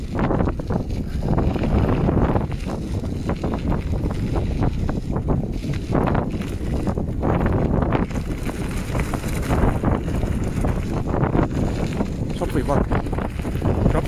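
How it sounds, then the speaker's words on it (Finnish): Strong warm wind buffeting the microphone in gusts while cycling, a loud roaring rumble that rises and falls throughout with no clear speech. "Sopiva lämmin tuuli."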